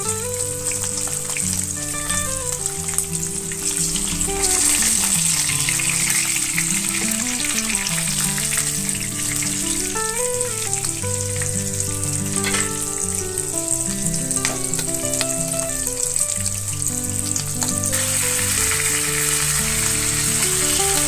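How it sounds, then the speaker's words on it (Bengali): Rawa-coated Bangda mackerel pieces sizzle in hot oil in a pan, a loud, continuous crackling fry heard close up, with music playing alongside and no talking. "আমার এইগুলো 2 মিনিটের মতো করে ভাজা হয়ে গেছে, এবার আমি এটা উল্টে দেবো"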